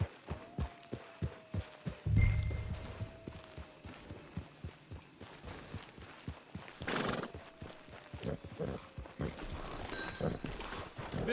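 Horse hooves clip-clop at a steady walking pace on the ground in Red Dead Redemption 2, close and rhythmic, with a brief snort and a faint whinny partway through.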